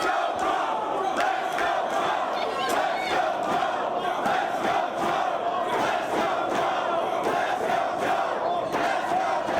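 A wrestling crowd cheers and chants through Samoa Joe vs CM Punk. The arena noise stays loud and steady, with rhythmic surges that pulse like chanting across the whole stretch.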